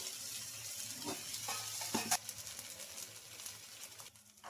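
Bottle gourd rava dosa fries with oil on a hot pan, giving a steady, faint hiss with a few soft crackles and spatula touches, close by.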